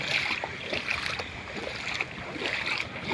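Gusty wind buffeting outdoors over a flooded area with waterlogged buildings, rough rushing noise with bursts and lulls and possible water movement beneath, fairly faint and continuous with no talk.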